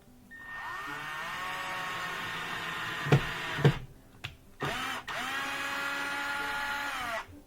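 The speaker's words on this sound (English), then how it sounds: "I'm just going to start the first screw." A power drill whines steadily as it drives a Phillips head screw into particle board, close up, with a couple of clunks midway, a short stop, then the motor revving again until it halts.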